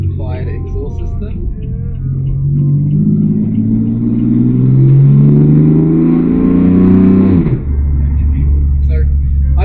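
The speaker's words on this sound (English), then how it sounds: "Just open the valves, because who likes an M4 with a quiet exhaust system?" BMW M4 with its exhaust valves open, revving hard: a loud, deep engine roar that builds over several seconds and then drops off sharply into a steady idle rumble.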